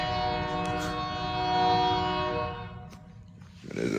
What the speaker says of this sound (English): Yeah, train's loud.